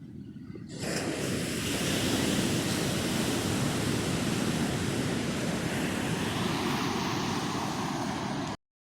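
Ocean waves wash onto a beach in a continuous, loud roar of surf, broad and hissing with no break, then cutting off abruptly near the end.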